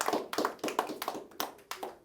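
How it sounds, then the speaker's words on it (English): A few people clapping in a small seminar room, sparse uneven claps close by, roughly a dozen distinct strikes over two seconds with no talk. "You can clap for that."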